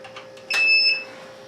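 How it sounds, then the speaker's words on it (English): A single short electronic beep from a ZOSI security camera system on power-up, clear and moderately loud, rising briefly over a quiet background hum. "It will beep once."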